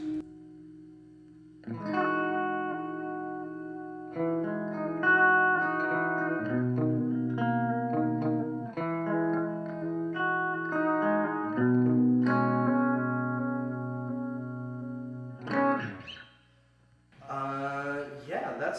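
Electric guitar notes and chords ring out with a wavering, shimmering chorus effect from a Death by Audio Echo Dream 2 pedal, played alone with pauses between phrases.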